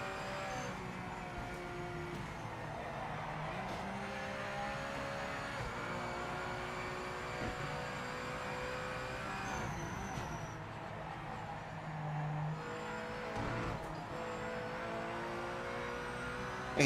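Racing car engine in the Project Motor Racing video game, holding a steady mid-pitch drone that shifts as gears change through corners, constant and fairly loud with no talk.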